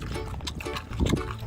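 Pigs on a farm grunt and snuffle close by, a few low rough grunts in quick succession over a noisy outdoor background.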